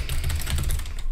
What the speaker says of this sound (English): He loves walking across my keyboard.